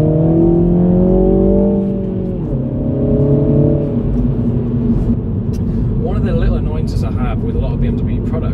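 2021 MINI Cooper S (F56) engine rising in revs after a downshift to second gear, a steady close rumble with climbing harmonic whine early on, settling into an even drone while a person talks over it.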